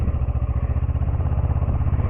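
A motorcycle engine runs with a steady, rapid low throb as the rider closes the throttle, close and fairly loud, the pulsing beat continuing evenly throughout with no talk.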